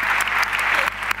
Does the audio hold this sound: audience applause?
yes